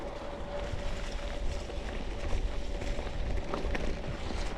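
Steady, low wind buffeting the microphone during a singletrack mountain bike ride in a park, a broad continuous rumble that rises slightly midway with no clear breaks.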